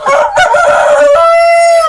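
A rooster crows loudly and close by in a poultry farm shed, one long strained cock-a-doodle-doo with a drawn-out ending, briefly overlapped by clucking from other fowl.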